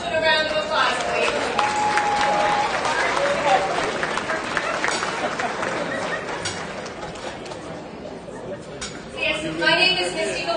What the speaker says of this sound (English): Can we give Kristen a round of applause,